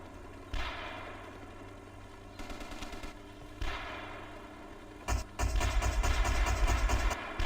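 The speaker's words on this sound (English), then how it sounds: "We got AA firing." Anti-aircraft guns in a World War II-style video game fire in loud bursts of rapid thuds, separated by short pauses, ending in a long sustained barrage.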